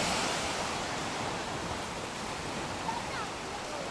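Steady broadband roar of surf washing onto a gently sloping wild beach near Cleopatra Beach in Alanya, Turkey, continuous and full with no breaks, heard up close.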